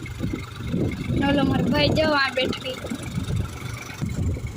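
A GPS-equipped tractor plows a 25-bigha field, its engine a steady mid-pitched drone running throughout beneath a man's close, continuous talk.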